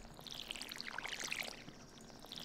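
Watering tilled soil in the video game Stardew Valley gives a soft splashing pour with scattered bright droplets, faint and continuous for a couple of seconds.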